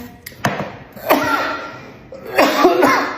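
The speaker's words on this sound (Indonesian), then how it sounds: "kayak batuk-batuk mulu" A few harsh, close coughs from a dry throat in short bursts with brief pauses between them, loud and nearby.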